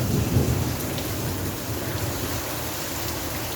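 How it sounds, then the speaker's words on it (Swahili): Heavy rain pours steadily somewhere in the Gulf, a dense continuous roar with low thunder rumbling underneath, loudest near the start, no voices. "it is raining heavily here"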